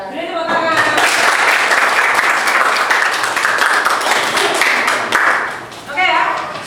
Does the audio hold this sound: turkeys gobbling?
no